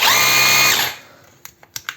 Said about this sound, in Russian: Сверление с ударом.